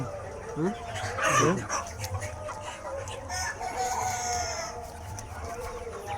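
Poultry-farm chickens, one of them sick with a cold, cluck and call close by while someone talks over them, with a brief louder squawk early on.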